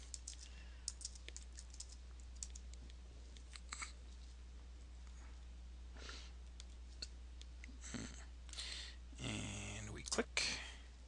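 A computer mouse clicks in scattered, sharp, close taps over a low steady hum, with a few louder rustling handling noises toward the end.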